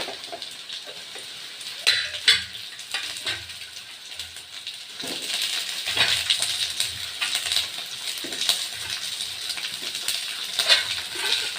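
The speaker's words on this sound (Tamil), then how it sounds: "இப்போ பூண்டு வதங்கும் போது அது கூட நம்ம வெங்காயத்தையும் போட்டுக்கலாம்" Garlic and onions sauté in a pan for garlic chutney, giving a steady crackling sizzle broken by periodic scraping stirs and light clinks, moderately close and with no talking.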